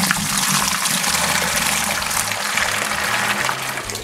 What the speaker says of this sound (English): this creates a nice way to pour your juice into the bucket.